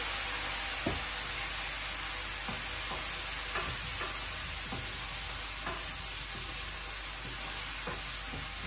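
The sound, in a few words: frying and stirring spices in a pan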